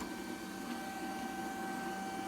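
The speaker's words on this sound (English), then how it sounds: "So it's doing a good job cleaning so far" An Aposen A450 robot vacuum cleaner runs with a faint, steady motor whir and a constant high tonal whine, unchanging throughout with no speech.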